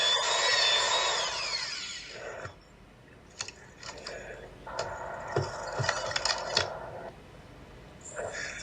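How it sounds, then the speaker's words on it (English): A power drill bores into wood, with a whining spin at the start, then intermittent grinding, clicks and rattles of tool work at close range. "We drill as deep as possible"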